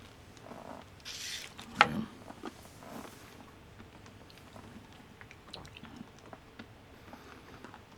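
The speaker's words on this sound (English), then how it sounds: "So I guess I can bite into it and chew it up." A peppermint-flavoured mint chew is bitten into and chewed up close, with one sharp bite early on followed by soft, quiet, irregular chewing and mouth sounds, no talking.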